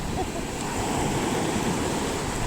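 Sea waves roll in at the shore, a continuous broad rush of surf and water noise with some wind, steady and fairly close, with no speech.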